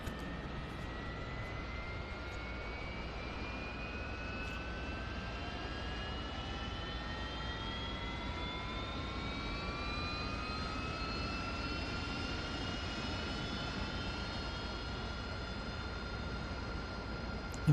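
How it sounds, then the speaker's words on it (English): An AV-8B Harrier jet engine spools up in the DCS flight simulator, starting as a steady low roar while several high whining tones climb gradually in pitch and then settle into a sustained whine. The sound is continuous and even, with no talking. "Okay, we have our engine started."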